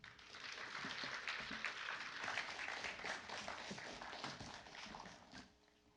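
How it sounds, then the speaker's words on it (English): Audience applause at a youth speech contest in Canada, a sustained wash of many hands clapping at moderate distance, holding steady for several seconds before tapering off near the end. "Let's give him a round of applause."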